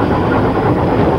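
Steam locomotive at speed heard from the footplate: a dense, loud, continuous roar of engine beat and running gear, with no separate rail-joint clicks standing out in the brief stretch.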